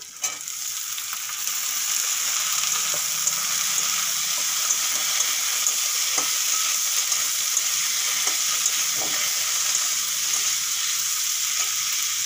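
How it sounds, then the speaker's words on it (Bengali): Washed, cut potatoes frying in a pan with ginger-garlic paste for an egg curry, a continuous close sizzle with occasional soft clicks and scrapes of stirring, no voices. "চার মিনিট আলু ভেজে নিয়েছি"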